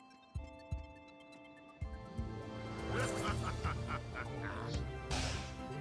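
A monstrous bird creature in the video game Wizard of Legend gives honking, quacking squawks over a layer of game music and effects.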